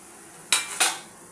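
Two quick metallic clinks, like a spatula or spoon striking a pan, as eggplant goes into a pan of fried spices, with faint kitchen background around them.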